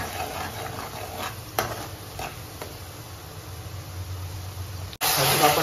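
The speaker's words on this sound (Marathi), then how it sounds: "कांदा आपण पूर्ण खरपूस करून घ्यायचा, म्हणजे ब्राऊन करून घ्यायचा, गोल्डन ब्राऊन" Onion with salt frying in a pan until golden brown, a constant close sizzle with scraping stirs over a low hum that cuts abruptly near the end.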